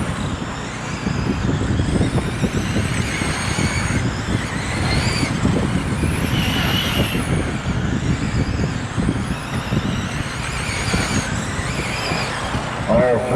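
Race cars circling a short track during an end-of-season main event in Toledo, a loud sustained engine roar that swells and fades as cars pass, with an announcer talking over it.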